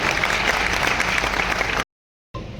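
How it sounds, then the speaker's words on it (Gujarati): An audience at a creators festival in Ahmedabad breaks into sustained applause, a dense wash of many hands clapping that cuts out suddenly, followed after a short silence by more clapping. "સૌપ્રથમ તો આપ સૌ માટે જોરદાર તાળીઓ થઈ"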